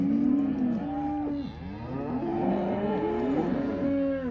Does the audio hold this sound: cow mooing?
yes